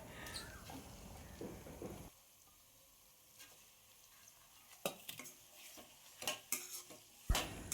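Cleaned chicken pieces drop into a hot pan for a dhaba-style chicken fry and are stirred, starting with a loud burst, then settling into a soft sizzle broken by scattered spoon scrapes and clinks against the pan.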